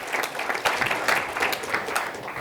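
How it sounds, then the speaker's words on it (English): A keynote audience at a social media marketing talk applauds together, a short burst of dense, even clapping heard from within the crowd with no voices over it. "So give a round of applause to the team here at NetBase for hooking all of y'all up."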